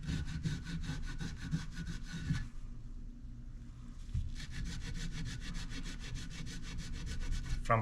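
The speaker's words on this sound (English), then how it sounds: "I'm just going to use a microfiber cloth and some brake clean and then just go over the surface" A microfiber cloth wet with brake cleaner is rubbed over the sealing surface of a Ducati 916/996/748 clutch cover. It makes fast, even back-and-forth scrubbing strokes, pauses briefly, then resumes close up.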